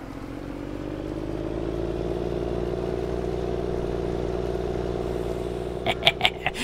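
A tractor engine in Farming Simulator 22 drones steadily at close range, with a fitted exhaust giving it a deep, loud tone, and a few sharp clattering knocks near the end.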